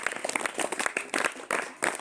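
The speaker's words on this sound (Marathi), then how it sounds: "याच्यासाठी जोरदार टाळ्या होत" Applause from classmates for a quiz show contestant, a brisk burst of uneven clapping by a small group, fairly close, with brief pauses in the rhythm.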